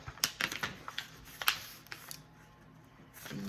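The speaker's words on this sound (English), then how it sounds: "You just accordion fold it all the way" Paper being accordion folded back and forth: a quick series of close, crisp creases and crackles, then a quieter pause and soft rustling handling at the end.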